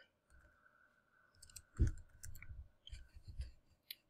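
Computer mouse clicked several times at close range, giving a scattering of small, sharp taps over quiet background.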